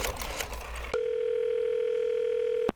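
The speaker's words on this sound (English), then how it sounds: "Let's get Mason's take on that wave. I think we dial him up right now." A steady, loud telephone dial tone sounds alone for about two seconds after a brief burst of background noise, then cuts off abruptly.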